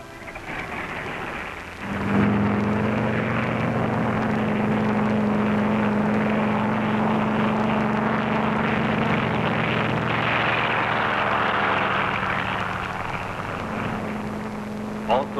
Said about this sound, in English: taking off from the carrier are control planes that will guide the radio-controlled drone boat